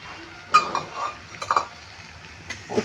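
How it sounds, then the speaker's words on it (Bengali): A utensil stirs fried mourola fish in a pan, giving a few scattered clinks and scrapes of metal against the pan over a low background hiss, close and fairly quiet. "একটু নেড়ে নেব আমি।"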